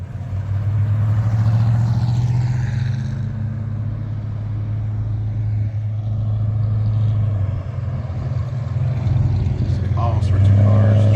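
Classic cars and trucks, among them a 1949 Chevy fire truck, idle and rumble along Route 66 in Seligman, Arizona, a steady loud low engine drone throughout with a brief rise near the end.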